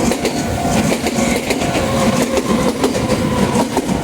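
A train in Nagoya, Japan rushes past close by at speed, a loud continuous rumble with rhythmic clickety-clack of wheels over rail joints.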